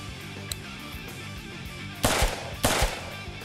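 Two loud rifle shots burst out about half a second apart as jugs are hit during a switch-shoulder shooting drill outdoors, each crack ringing out over steady background noise.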